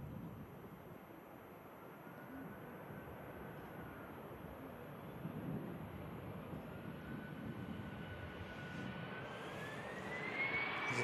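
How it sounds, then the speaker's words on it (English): An EasyJet airliner touches down on the runway at Manchester Airport in thick fog, a distant, steady jet engine rumble with a faint rising whine that grows slightly louder toward the end. "Nice touchdown from the EasyJet."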